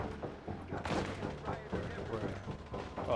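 Turret gunfire in the video game The Division: a dense, continuous barrage of rapid shots and bursts, fairly loud and steady across the clip, with voices talking over the shooting.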